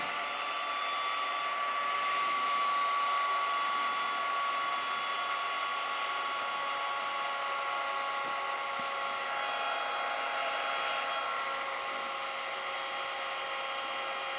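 A battery-powered heat gun set to high heat, 550, blows hot air with a steady close whirring hiss and a thin motor whine, holding even for the whole stretch with no talk.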